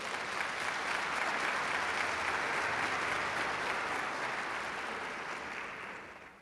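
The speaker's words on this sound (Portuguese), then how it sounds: "Quem recebe, dá um aplauso a Jesus." A church congregation breaks into sustained applause during a service, a dense, steady clapping that fills the room and fades slightly at the end.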